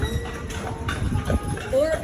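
Horse hooves clip-clop in a steady walking rhythm as a horse pulls a tour carriage through the streets of old Savannah, with a guide talking over them.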